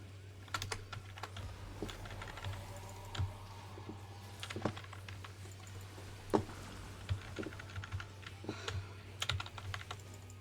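Computer keyboard keys pressed during Final Fantasy XIV play, a steady run of close, crisp clicks with irregular rhythm and a few louder strikes over a constant low hum.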